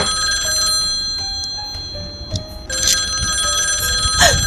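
An old-style landline telephone bell rings insistently in repeated trills, loud and close, with some rustling and knocking between the rings.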